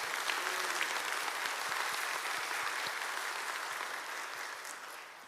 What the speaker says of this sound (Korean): 우리 하나님께 감사와 영광의 박수를 한번 크게 올려드리겠습니다